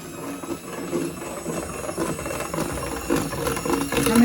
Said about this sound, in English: So I'm just going to whisk this cream.